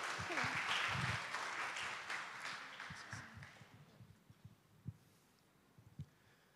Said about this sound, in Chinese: 让我们再一次以更热烈的掌声欢迎我们的教区